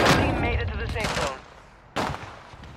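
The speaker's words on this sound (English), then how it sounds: "There's a lot of gunfire up top." Rapid video game gunfire rattles loud and close in dense bursts, a long volley at the start and another burst near the end, with no talk over it.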